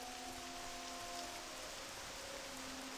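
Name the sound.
rain in video game World of Warcraft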